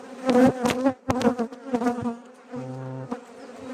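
Honeybees from a swarm housed in a hive three days ago buzz up close in uneven bursts, individual bees droning loudly past with short gaps between them.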